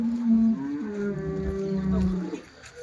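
A cow at the Sunday cattle market in Chintamani, Karnataka, lets out one long, close, drawn-out moo that wavers in pitch before trailing off.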